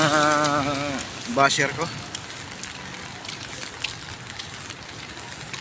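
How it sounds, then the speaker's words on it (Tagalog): Steady rain patters on surfaces on an evening street in Sampaloc, falling fairly hard while someone talks over it near the start; the wash of drops continues alone afterward. "Maulan-ulan dito mga kapersa sa Sampaloc."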